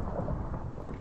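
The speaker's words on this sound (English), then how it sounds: "God, that thunder's loud." Thunder rumbles in the Minecraft video game, a deep loud low roll filling the whole brief moment with no speech over it.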